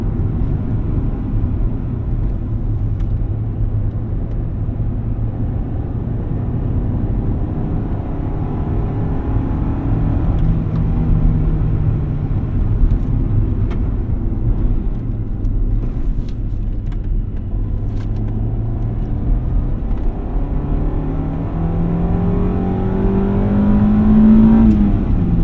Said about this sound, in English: Now we're driving the 95 Civic Si